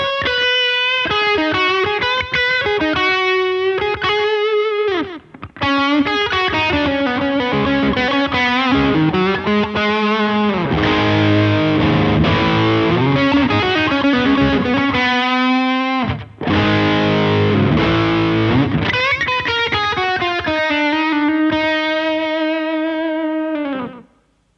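Distorted electric guitar plays through an Echoplex EP3 tape echo, a dense repeating riff smeared with tape repeats, briefly dropping out twice before winding down at the end.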